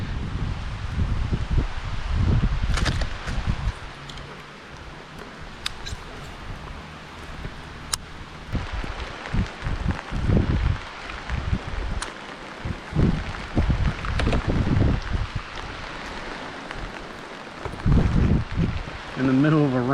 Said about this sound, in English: In the middle of a rainstorm.